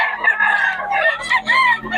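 A rooster crows with harmonic, strained calls while chickens cluck and squawk around it at a market in Bocaue, loud and close, with a steady low hum underneath.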